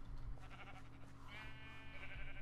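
Sheep in the video game Minecraft, a faint bleat rising partway through over low background hum, quiet and brief.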